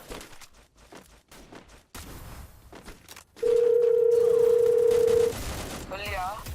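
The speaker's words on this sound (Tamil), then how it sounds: "இரு ஃபோன் அடிச்சு பார்க்கலாம்." A single steady phone ringing tone from an outgoing call sounds clearly for about two seconds, following quieter background noise and ending in soft ambient sound.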